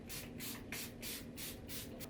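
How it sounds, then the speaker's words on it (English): Charlotte Tilbury Airbrush Flawless setting spray mists onto a face in a rapid series of about six short, soft, hissing pumps, close and quiet, with no one talking. "It's by Charlotte Tilbury. And it is her Airbrush Flawless Setting Spray."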